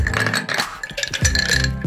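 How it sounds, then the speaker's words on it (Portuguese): Ice cubes tumble into a metal cocktail shaker for a cashew drink, giving bright clinks and clatters close up, in two quick bursts. "Agora a gente pode colocar gelo para dentro da nossa coqueteleira."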